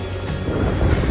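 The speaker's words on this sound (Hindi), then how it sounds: "कितनी ठंडी प्यारी हवा चल रही है।" A cool breeze blows at Enoshima on the Kanagawa coast, a steady low wind rumble buffeting the microphone and growing slightly stronger toward the end, with no voices.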